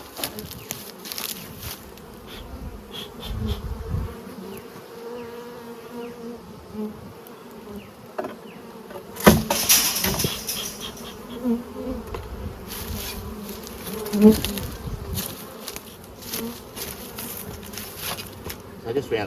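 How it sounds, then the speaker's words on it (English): Bees flying around beehives relocated along a trail in November, a continuous buzzing swarm with individual bees passing close to the microphone, loud at moments, with no talk. "I noticed that those bees are flying into that triple"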